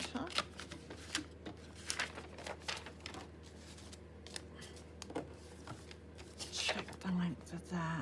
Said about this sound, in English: I'm just going to rip this